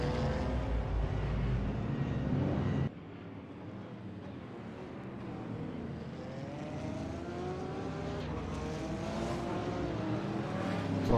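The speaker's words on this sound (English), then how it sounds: "hopefully you guys can hear the car sounds and everything all right" Steady engine roar of GT3 race cars in a racing video game at Singapore Marina Bay, droning continuously with shifting pitch as they accelerate, loud and close with no talking.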